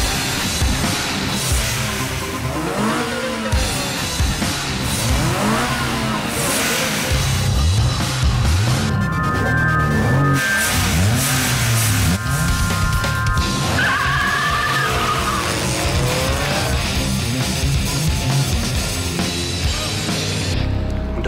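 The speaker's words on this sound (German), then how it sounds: "Die starten hier gerade ein illegales Autorennen." Cars rev and skid during an illegal street race, dense engine roar and tire screech running continuously and loudly throughout, with shifting whines and a mix of busy crowd-like noise beneath.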